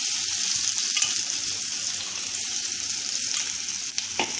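Ginger, garlic and chili paste sizzles and crackles steadily in hot oil, a continuous frying hiss with occasional stirring scrapes, close up and with no talking.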